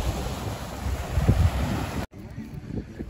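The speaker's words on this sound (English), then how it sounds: "I'm showing you the waves now." Ocean waves wash and splash against a bulkhead wall at Holden Beach, a steady rushing surf mixed with blustery wind buffeting the microphone; the sound cuts out abruptly partway through, then resumes more quietly.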